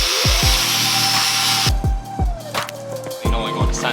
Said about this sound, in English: time to get the sanding device, Which is code for grinder